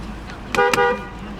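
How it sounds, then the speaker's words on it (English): Horn of a 2011 Ford Crown Victoria Police Interceptor sounding two short, close honks in quick succession over a quiet background. "Honk does work."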